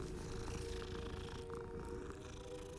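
A cat purrs as it is petted in Hogwarts Legacy, a steady, close, continuous low rumbling that runs unbroken with no talking over it.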